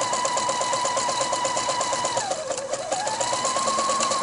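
A sewing machine stitches lace with an open toe or clear presser foot, running steadily and loudly at close range, its rapid rhythmic whirr briefly slowing mid-run before picking back up.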